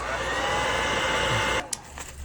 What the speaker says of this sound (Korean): 이렇게 해서 드라이기로 이제 말려줍니다.